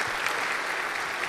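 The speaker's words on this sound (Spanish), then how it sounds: "Por favor, un aplauso." A conference audience claps in a brief, dense burst of applause, loud and even throughout, with no voices over it.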